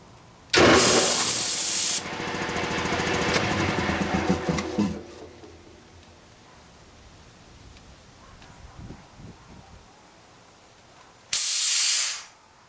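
A 5HP Quincy model 325 air compressor starts with a loud burst of hissing air and a rumbling run that winds down after a few seconds, followed by a quiet stretch, then another brief loud release of air as it stops.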